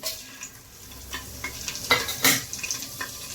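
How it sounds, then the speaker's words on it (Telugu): Cumin, caraway and dried red chillies sizzle as they hit hot oil in a pan, giving a soft crackling hiss broken by a few sharper spitting bursts and light scraping of a stirring spoon. "నూనె హీట్ ఎక్కిన తర్వాత నేను ఇక్కడ జీరా, సాజీరా, ఎండుమిర్చి"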